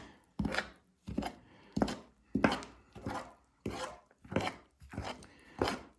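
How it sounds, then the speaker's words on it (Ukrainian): A spoon scrapes and stirs through thick bread dough in steady, rhythmic strokes, about eight of them, close and fairly quiet. "Тепер все сюди висипали і берете отако ложкою, все перемішуєте"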